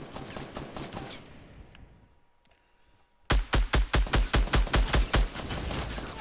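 Rapid bursts of gunfire in a Fortnite solo match: a sharp volley of about a dozen loud, evenly spaced shots follows a quieter stretch of game sound and scattered earlier shots.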